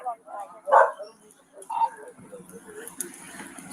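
A dog gives a few short, fairly faint barks and yips, spaced apart against a quiet background.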